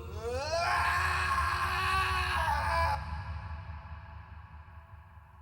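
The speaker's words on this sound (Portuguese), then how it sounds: "E o homem grita." A man's scream in a horror film, loud and sustained with a wavering, rising then falling pitch lasting about two and a half seconds, then cutting off into a low rumbling, ominous background.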